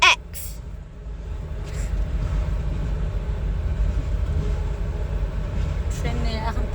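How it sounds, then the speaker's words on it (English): A CSX freight train passes close by with a steady low rumble and faint rhythmic clatter of wagons, a brief sharp squeal near the start and again toward the end, and voices talking over it. "It's a freight train."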